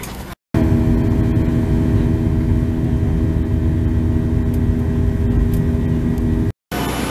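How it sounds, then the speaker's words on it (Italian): Steady airplane cabin drone and engine roar in flight on a trip to Genoa, loud and continuous with low hum and tonal whine, no talking, with brief silent gaps at the start and end. "Ora siamo in aereo, io sono qua e lui è qua dietro."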